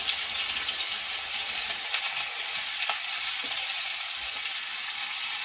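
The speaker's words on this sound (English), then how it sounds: "And another reason you want to fry it slow is because you don't want it soaking up any more grease than normal." Chicken gizzards frying slowly in grease, a steady close hiss and crackle of sizzling oil that stays even throughout, with a few faint pops and no talking.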